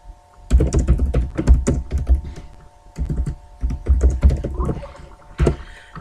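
Rapid computer keyboard typing in bursts of clattering keystrokes, close and fairly loud, with short pauses between runs and no talking.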